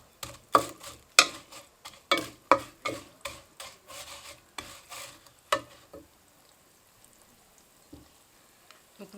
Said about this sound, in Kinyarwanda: Tugiye gukaranga izi makaroni